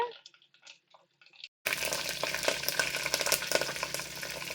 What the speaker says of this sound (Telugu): ఆవాలు చిట్టపట్లు ఆడుతున్నాయి